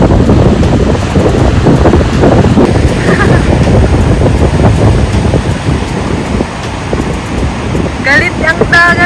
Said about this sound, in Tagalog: Galit ang dagat ngayon.